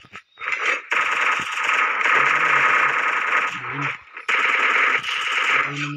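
Rapid automatic gunfire in a shooting video game rattles in loud sustained bursts, with brief pauses between volleys and a sharp, dense, close sound.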